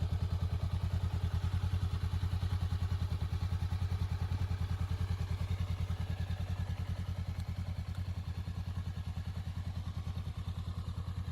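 A Honda Rebel motorcycle idles low and smooth, its deep, even thump-thump pulse steady and close for several seconds, with no speech over it.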